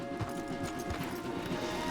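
Horse hooves clip-clop in Red Dead Redemption 2 as riders slow to dismount, a steady stream of hoofbeats over game ambience and background music.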